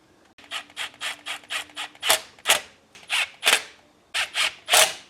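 A screwdriver drives four screws into the faceplate of a 240-volt EV charger outlet, producing a close run of short, rhythmic ratcheting bursts, then several louder, longer turning strokes.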